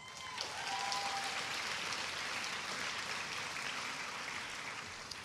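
Audience applause at a Columbia University journalism school graduation ceremony, a dense, steady wash of many hands clapping in a large hall, sustained throughout at moderate distance.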